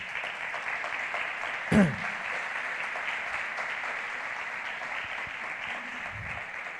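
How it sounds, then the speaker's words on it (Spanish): Church congregation applauding during a sermon, a soft, distant, even patter of clapping that carries on steadily throughout, with one brief louder knock near the start. "Den un buen aplauso al Señor."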